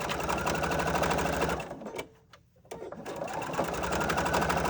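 A sewing machine stitching a fabric envelope, whirring rapidly and steadily up close, pausing briefly in the middle before running again at full speed.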